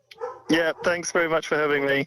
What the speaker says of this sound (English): That's my dog Podrick saying goodbye as well.